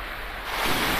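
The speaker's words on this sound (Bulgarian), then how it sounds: "Ето така малко за сравнение как върви водата, когато е малко леко по-голяма" River water flows past an inner bend in a river where gold settles, producing a steady, close rushing wash of broadband noise that swells slightly over a short moment.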